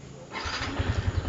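A Yamaha 150 FI motorcycle's electric starter whirs briefly before the engine catches and settles into a low, pulsing idle, close by and moderately loud.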